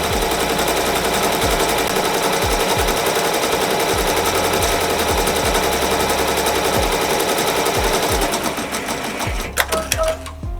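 A Ricoma embroidery machine stitching white thread, a loud rapid mechanical chatter running continuously close up, then slowing and stopping near the end with a few clunks as it shifts.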